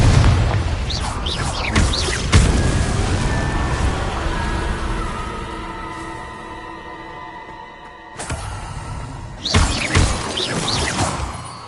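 Incendio and Confringo spell blasts fire in Hogwarts Legacy, a few loud bursting booms and shattering crashes with a rumbling tail between them, close and forceful.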